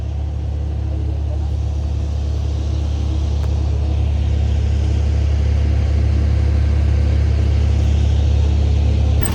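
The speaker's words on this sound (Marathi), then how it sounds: "सगळ्या आता गाड्या चाललेल्या सगळ्या" Vehicles moving along a mountain road near a hill fort, a continuous low engine rumble close by with a faint murmur of voices underneath.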